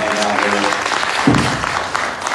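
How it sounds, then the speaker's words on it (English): An audience applauds steadily at an event, a dense wash of clapping throughout the short stretch with a brief thump partway through. "let's give these guys a round of applause."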